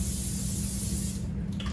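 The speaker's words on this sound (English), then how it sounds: "I'm gonna spray just a little bit" Cooking spray hisses from an aerosol can onto the bottom of lasagna pans, one close, continuous spray burst that cuts off just before the end.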